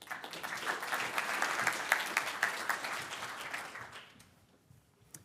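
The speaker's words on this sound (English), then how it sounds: "Big round of applause." Conference attendees give a big round of applause as a speaker is welcomed onstage, a steady crowd clapping that holds for about four seconds and then tapers off into quiet.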